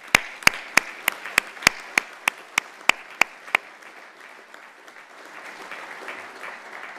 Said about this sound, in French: Je vous prie de les applaudir très fort.